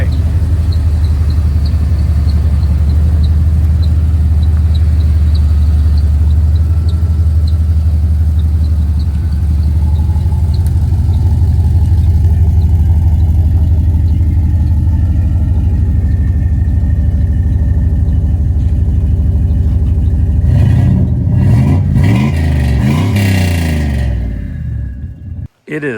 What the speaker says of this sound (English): It is time for the first test drive of the Turbo Dakota.